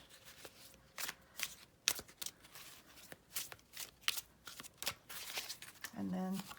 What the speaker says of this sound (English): And then it overhand shuffles really nicely.